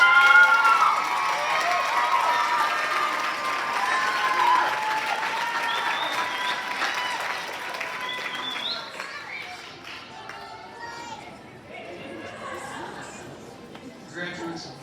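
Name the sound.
graduation audience applause for instructors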